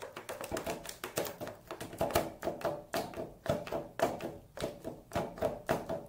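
A homemade rattle built from a jar, balloons, strings and buttons is shaken, giving quick, uneven clusters of light clicking and tapping, close and fairly quiet.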